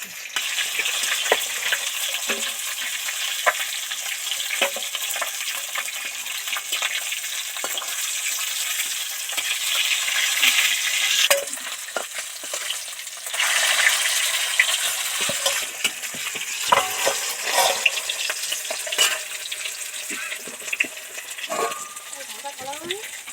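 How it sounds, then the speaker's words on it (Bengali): Oil bubbles and sizzles steadily as pieces of catla fish deep fry, with occasional clinks and scraping of a utensil in the pan. "একটা একটা ডিপ ফ্রাই করে ভাজা হয়ে যাচ্ছে"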